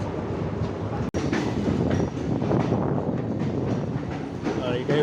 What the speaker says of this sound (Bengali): তো জাস্ট আইলো এখন শিলচর কাঞ্চনজঙ্ঘা এক্সপ্রেসটা